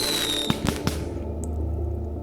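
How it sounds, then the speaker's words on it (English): A firework explodes over a park on the Fourth of July, heard as a few sharp cracking bursts in quick succession followed by a rumbling, crackling tail over steady background noise. "Then another firework exploded."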